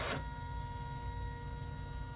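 An embroidery machine stitching a channel clutch, giving a steady mechanical hum and buzz with tonal whine, close and continuous, with a brief louder burst at the start.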